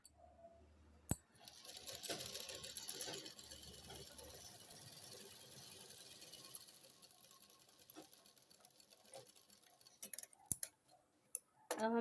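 A sewing machine stitches a young girl's kurti with a quiet, steady mechanical whir and rapid ticking that runs for several seconds. Sharp clicks come at the start, and handling knocks come near the end.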